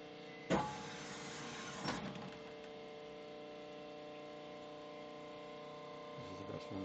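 A gun barrel is honed with a powered hone, giving a steady, fairly quiet mechanical whine throughout. A couple of sharp knocks come near the start.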